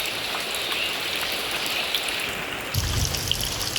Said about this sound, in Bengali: এই যে দেখো বৃষ্টি কেমনে পড়তেছে